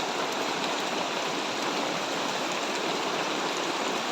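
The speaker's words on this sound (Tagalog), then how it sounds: "Lakas ng ulan." Heavy rain pours in a steady, dense hiss, continuous and close with no pauses or voices.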